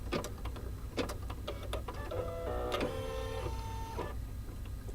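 An embroidery machine stitches a placement line, giving a rapid mechanical whir of needle strikes with clicks and short whining motor tones, close and steady over a constant hum, with no talking.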